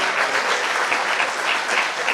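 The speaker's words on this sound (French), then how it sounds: "Applaudissez." A church crowd at a parish feast claps steadily, a dense burst of applause from many hands, fairly loud and continuous throughout.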